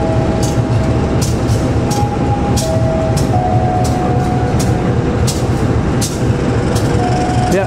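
A train speeds past in Bandung with a loud, steady roar and rhythmic rail clicks repeating throughout, close by and without talk.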